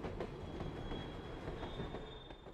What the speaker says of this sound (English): The train is trapped.